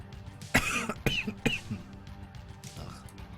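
Several harsh coughs from one person in quick, uneven bursts, close and fairly loud, with a quieter cough or throat-clear trailing off afterward.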